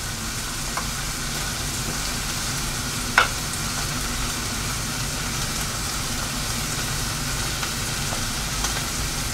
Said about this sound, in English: Let's put some onions in there to give it flavor.